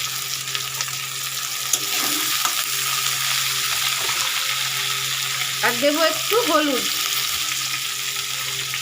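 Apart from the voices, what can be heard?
small chuno fish frying in pan with spices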